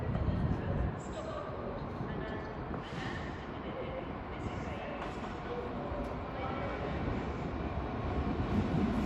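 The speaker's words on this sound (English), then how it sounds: "soon to pass through now will be a GBRF 66 going from Wembley to Jubic sidings" A GBRF Class 66 freight train passes through Crewe on the West Coast Main Line, a steady low rumble and roar of wagons rolling by for several seconds, fairly distant and continuous.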